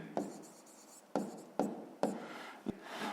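A pen writing on paper during a fifth-grade maths exercise, a soft continuous scratching broken by several sharp taps as strokes begin, close and quiet, with no talking.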